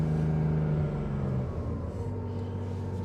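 The 1973 Porsche 911S engine with mechanical injection runs close by, a steady low hum that drops slightly as the throttle is lowered.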